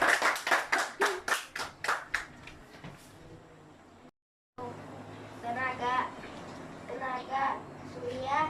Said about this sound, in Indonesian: Nah, beri tepukan ya.